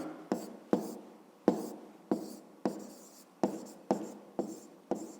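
A pen scratches across paper in a child's fifth-grade maths workbook, making about ten short strokes with sharp onsets that fade quickly, close and fairly quiet with no talking.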